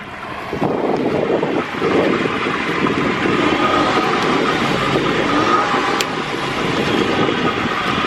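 A 2003 boat engine, reconditioned and due for a tune, runs loud and noisy, revved up into a steady broadband roar with wind buffeting across the whole stretch and no pauses.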